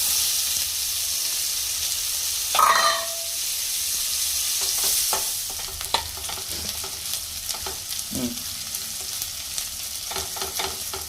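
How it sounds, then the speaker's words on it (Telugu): Chopped onions hit hot oil in a pan with a sharp sizzle, then frying continues with a steady hiss, spatula stirs and a few clanks, without speech. "తర్వాత మనం కట్ చేసి పెట్టుకున్న ఆనియన్స్ వేసుకోవాలి"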